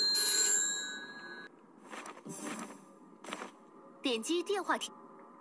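Telephone in a phone box rings in the Devil May Cry mobile video game, a bright ringing burst at the start, followed by game sounds and character voices talking.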